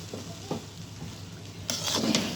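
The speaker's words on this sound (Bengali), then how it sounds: "এখন ঘি দেওয়া আর এইগুলো ভালোভাবে আমি মিক্স করে নেব।" Fried rice being stirred with ghee in a pan, a soft scraping and gentle sizzle that grows louder and busier in the second half, with no voices.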